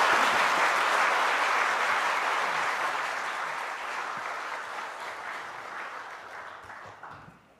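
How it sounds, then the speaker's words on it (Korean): A church congregation applauds during a Sunday worship service as the pastor steps up to the pulpit, a broad, continuous roar of many hands that holds strong for several seconds and then gradually fades away. "목사님 등단하실 때 우리 한번 박수 한번 드릴까요?"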